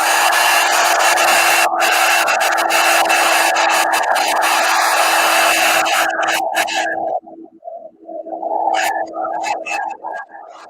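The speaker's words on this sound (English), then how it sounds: "let me hit it with heat gun real quick before I start writing on it" A heat gun blasts hot air onto a drawing with a loud, constant close roar and a faint steady hum inside it. Around the seven-second mark the roar breaks up and then sputters on.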